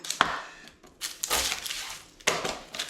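Half an onion with its skin and a whole garlic bulb are chopped with a knife on a board, giving three or four sharp, close woody chops separated by short pauses, with nobody talking.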